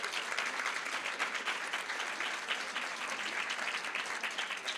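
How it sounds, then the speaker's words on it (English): Sustained audience applause for a panel at a live menopause event in Boston, a dense, steady wash of many hands clapping throughout without pause. "Let's give them one big round of applause."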